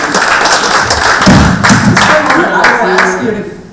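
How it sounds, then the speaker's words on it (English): Scattered, loud clapping from a planning board meeting audience, a few distinct close claps and thumps in an uneven rhythm rather than a full ovation, fading out at the close. "Give yourselves a round of applause."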